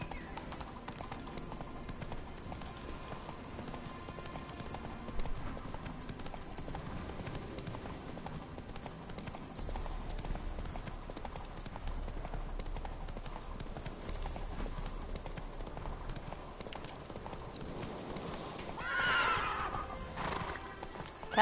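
A horse gallops in the Witcher 3 video game, its rhythmic hoofbeats running continuously over game ambience, with a whinny near the end.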